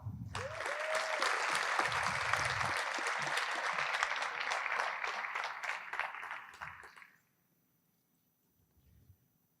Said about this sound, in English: one more round of applause for the United States Military Academy of West Point